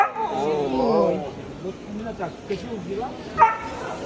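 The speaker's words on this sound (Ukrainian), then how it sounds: "яка собака гарна" A dog at a busy Ukrainian market before Easter lets out a few yips and short barks close by, mixed in with people talking and general market bustle.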